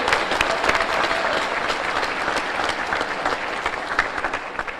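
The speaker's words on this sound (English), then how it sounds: "I'd like for you to give her a round of applause" Warm applause from a chamber of commerce luncheon audience, dense and steady clapping that holds for several seconds without speech over it.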